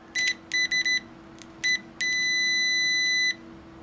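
UNI-T UT61E+ digital multimeter giving its continuity-test beep: several short clipped beeps, a couple more, then one sustained tone lasting over a second, clear and close with a faint steady hum beneath.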